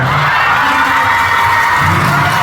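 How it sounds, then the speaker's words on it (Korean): Concert audience at a K-pop show, THE DREAM SHOW 2, cheering and shouting in a dense, steady roar that fills the whole stretch, with no talk over it. "너무 우리한테 한 번 박수 쳐주세요"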